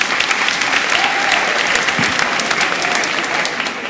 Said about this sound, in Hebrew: שאלה יפה, מחיאות כפיים מגיע לה.